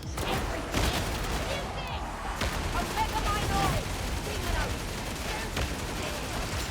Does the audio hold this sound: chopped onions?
no